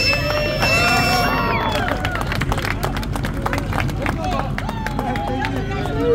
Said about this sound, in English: Let's hear it, everybody. Clap them up.